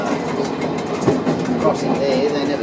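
Steady rumble and rattle of a moving train around Byron Bay heard from inside the cab, a constant droning roar with faint clatter, while people talk over it.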